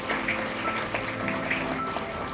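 An audience claps in welcome for a guest at a mango crop seminar held at an agricultural university, a steady, close burst of applause that continues throughout with a faint tonal hum beneath.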